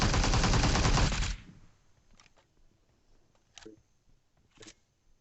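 Sustained burst of automatic gunfire in PUBG Mobile during a Georgopol fight, loud and dense for over a second, then cut off, followed by a few faint distant shots.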